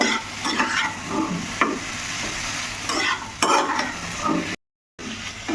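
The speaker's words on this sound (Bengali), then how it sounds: "এই হলুদটা দেওয়ার পরে আরও একটু এইভাবে নেড়ে নেব" Ridge gourd with salt and turmeric is stirred in a sizzling pan, with repeated scraping strokes over a constant frying hiss and one brief drop to silence near the end.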